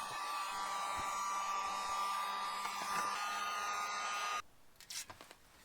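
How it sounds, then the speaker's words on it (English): A heat gun blows steadily up close, warming a plastic rear bumper and 3M adhesive tape on a 2019+ Toyota RAV4, then cuts off to leave a few faint handling clicks. "I've got my heat gun here. I'm gonna heat up the plastic here."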